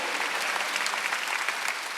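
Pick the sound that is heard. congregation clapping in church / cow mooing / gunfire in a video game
congregation clapping in church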